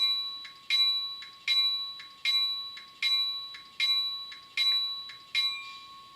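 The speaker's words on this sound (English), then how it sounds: "we're going to continue on with number 1, which is the bell" A small electronic bell rings steadily, eight evenly spaced dings, each fading quickly, with a constant faint tone beneath.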